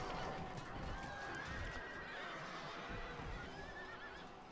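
Horses whinny amid a dense battle din in the video game Fourth Age, with faint neighs rising over a thick, rumbling wash of combat noise that stays steady throughout.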